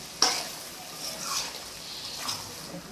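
Mutton kosha being stirred in a pan with a spoon, village-style cooking: a sharp scrape, then a few softer scrapes and a low sizzle, close and fairly quiet.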